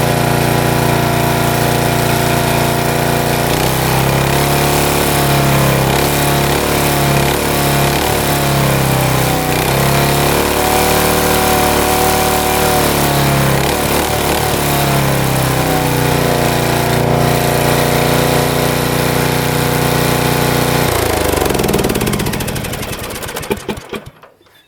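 An ATV engine with a fault that keeps it under 10 mph runs close and loud, its pitch wavering as the RPMs are raised by hand several times, before it cuts off at the end.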